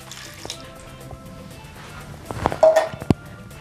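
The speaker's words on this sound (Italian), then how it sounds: "E adesso aggiungo poca acqua" Water poured into sliced zucchini rounds in a food processor bowl: a short splashing, trickling pour in the second half, louder than the faint kitchen background before it, with no talk.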